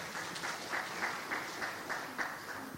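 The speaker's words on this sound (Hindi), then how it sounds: "मैं सभी लोगों से कहूंगा कि एक बार तालियां बजाकर उनका स्वागत करें" Audience in a Hindi-language India News Manch stage event applauding to welcome information commissioner and writer Uday Mahurkar, a steady moderate patter of clapping with faint murmur beneath, fairly distant.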